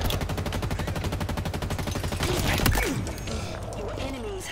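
Rapid automatic gunfire from a weapon in the video game Halo Infinite, a fast even stream of shots for about two seconds ending in a heavier blast, followed by quieter game effects and low rumble.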